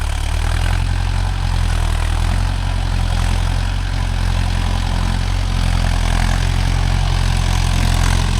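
A Mahindra Yuvo Tech Plus 585 4WD tractor engine runs at a steady 1500 RPM while pulling a five-tine cultivator, making a loud, unbroken low drone with no pauses.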